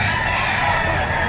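A rooster crows among chickens at a livestock auction market in Padre Garcia, Batangas, part of a dense, loud wash of fowl calls and crowd noise with no clear pauses.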